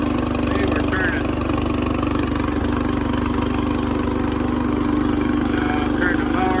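A riding lawn mower engine runs with a steady, close idling drone and constant low rumble. A voice is heard faintly underneath.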